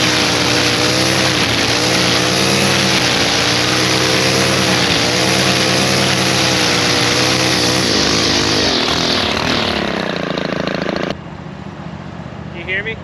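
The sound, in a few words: lawn mower running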